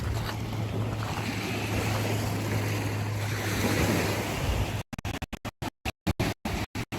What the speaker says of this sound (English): down here's where the creek runs out into the Sound out